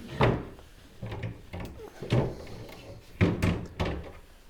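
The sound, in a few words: heavy MDF drawer on keyboard drawer slides opening or closing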